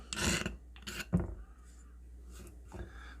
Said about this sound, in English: Scrape you up a good pile of the shavings.